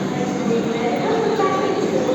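Steady rumbling roar of the Grand Trunk Express, Chennai Egmore to New Delhi, at a station platform, broadband and constant throughout, with faint squeal-like tones over the noise.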